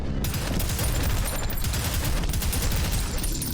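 Rapid weapon fire from the video game Prodeus, a continuous, loud stream of fast shots rattling without pause throughout.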